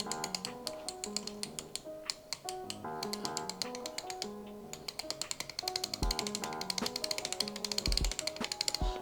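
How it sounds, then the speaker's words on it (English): A coffee mill puzzle box gives quick, irregular mechanical clicks and taps as it is turned, like an internal cog flicking through gears, close and fairly crisp with no talking. "It just seems to be clicking through some gears."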